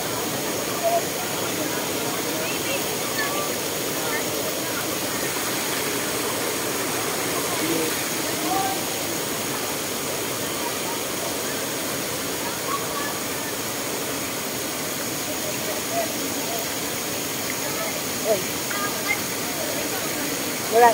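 Cambugahay waterfall on a tour: a steady, broad rushing roar of falling water that holds evenly throughout, with no clear voices over it.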